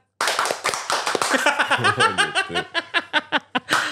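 A small studio audience claps on a talk show, starting as scattered, uneven clapping and then settling into a rhythmic unison beat of distinct, close claps with a trace of laughter mixed in.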